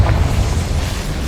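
Bombarda and Confringo spells detonate in the video game Hogwarts Legacy, producing a loud, dense, low rumbling boom that fills the whole short moment without letup.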